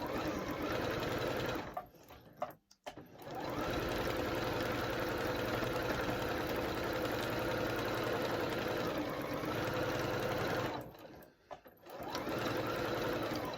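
A Singer 8500Q sewing machine stitches a quilt in long, fast runs, a loud continuous mechanical whir that stops twice for brief pauses before starting up again.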